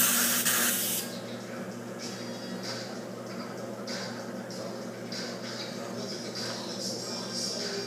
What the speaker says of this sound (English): I've got my post flow, or how long the gas continues to flow after the arc is done, set fairly long